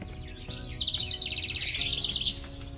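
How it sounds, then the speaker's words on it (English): Birds squabbling near a garden stevia patch, a rapid burst of bright chirps and tweets rising into a louder, harsher flurry before settling, close and clear with no talk. "Crazy birds fighting."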